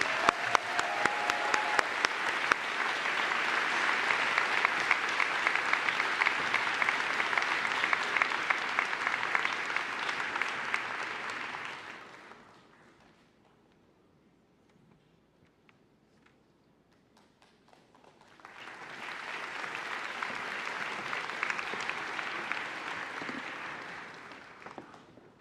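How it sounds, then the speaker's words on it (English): University convocation audience applauding an honoree at an afternoon ceremony: a long, full round of clapping that fades out into near silence around the midpoint, then swells back into a second sustained wave of applause. "Let's give her a round of applause."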